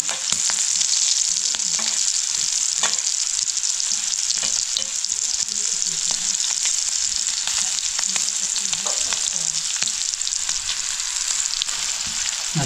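Semolina-coated prawns and garfish fry on a tawa over a wood-fired stove, a steady loud sizzle with occasional crackles and stirring scrapes throughout.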